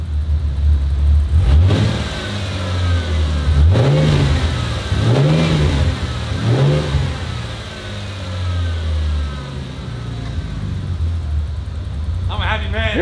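A turbocharged Ford Fairlane engine starts up and is revved in several rising-and-falling bursts, then settles into a loud, rough idle, with voices talking over it.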